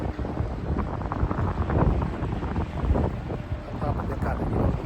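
Steady rumbling of a boat engine and water at sea, with heavy wind buffeting the microphone throughout.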